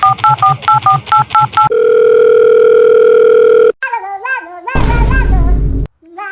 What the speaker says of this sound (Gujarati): લા ભડવાનો પાછો ફોન આવ્યો.